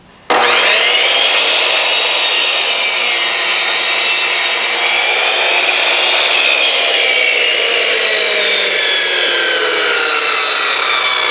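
Saw blade cutting through a wooden board for a propagation frame, starting abruptly and running as one loud, continuous rasping whine for about eleven seconds, very close and with no talking.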